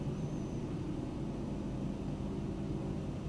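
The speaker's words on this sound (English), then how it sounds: "you can probably hear the military helicopter right now going by" Military helicopter flying by near Camp Pendleton, heard as a steady low broadband rumble, distant and fairly faint, holding level throughout without talk.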